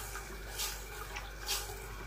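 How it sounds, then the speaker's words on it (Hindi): Water is poured into a cooking pot of yakhni broth for Arabic mutton mandi, a steady close rush of liquid with brief louder splashy surges. "और इतना ही हम पानी डाल देंगे"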